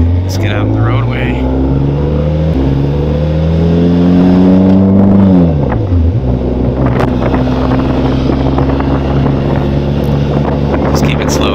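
A Benelli TRK motorcycle ridden slowly in second gear on a road, its engine a loud steady drone that dips and rises with throttle, heavy wind buffeting the microphone throughout.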